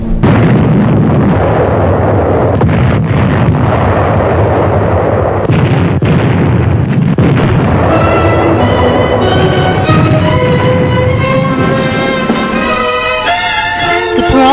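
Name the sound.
bombing explosions in Pearl Harbor attack footage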